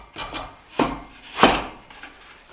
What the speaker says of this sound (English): So these should slide in nice.